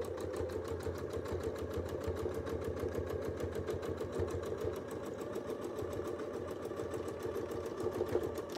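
A domestic sewing machine runs steadily through edge-to-edge quilting stitches, a fast, even needle chatter over a low motor hum, close and continuous without pause.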